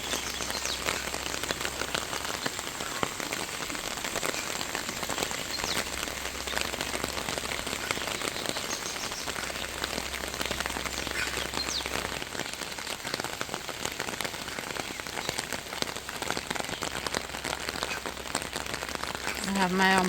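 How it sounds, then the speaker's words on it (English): Steady rain falls on a rainy day by the Mabaruma River in Guyana's rainforest, a dense, constant hiss of drops striking surfaces that runs evenly throughout without a break. "it has been raining since 4 o'clock"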